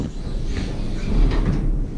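Doors of a Schindler HTVR holeless hydraulic elevator in a parking deck slide shut with a muffled rumbling rush and a soft thud, close and fairly loud, with no talk.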